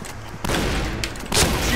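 Shotgun blasts in the shooter video game Point Blank, loud close reports arriving in three quick bursts over under two seconds, with sharp cracking spikes on the later shots.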